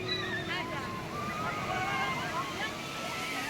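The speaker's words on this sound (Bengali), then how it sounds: "ওই দেখেছো কি বেড়ে গেছে ঢেউটা, না বড় হয়ে গেছে" Ocean surf at Puri Beach rolls and washes in a continuous roar, with wind on the microphone and people talking over it.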